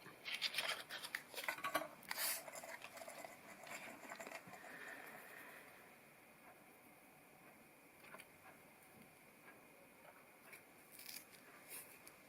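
Scissors trim oversized holder material for a handmade jewelry gift box, a few crisp snips and rustles up close at the start, then faint handling and quiet scratchy rustling for the rest.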